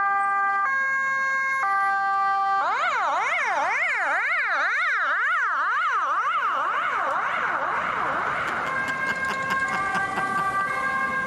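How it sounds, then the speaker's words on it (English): A Finnish emergency vehicle's siren starts with a few steady two-tone blasts, then switches to a fast rising-and-falling wail, later shifting into a warbling pattern. It is loud and continuous throughout, with no talking. "more of a normal, wig-wag siren"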